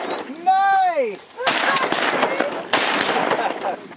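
Shotguns fired at ducks during an Oklahoma duck and goose hunt, two loud close blasts with rough rumbling tails, preceded by a voice calling out.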